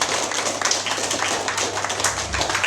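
An audience at a primary-level school science quiz claps steadily, a dense, even patter of many hands sustained without a break from start to finish.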